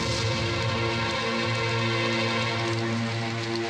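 Steady rain falls continuously, a dense even hiss of drops on surfaces without a break, moderately loud and alone with no voices.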